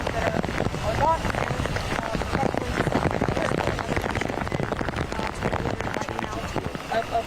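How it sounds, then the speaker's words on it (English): Heavy rain pouring outdoors during a severe weather event, a dense patter of drops with wind noise buffeting the microphone, heard under continuous speech. "it's obviously pouring rain where Aaron is"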